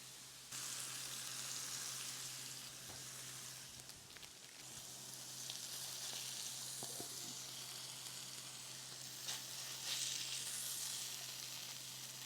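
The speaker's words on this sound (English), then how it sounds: "you can cook them for another 2 minutes on this side to get them fully cooked all the way through" Burger patties sizzle and fry steadily in a pan, a constant broadband crackle with occasional brief clinks of utensils, close and alone with no talking.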